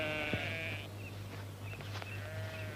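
A flock of sheep returning home bleats in a radio drama: one loud, near bleat opens, then fainter bleats and calls follow at intervals over a steady low hum.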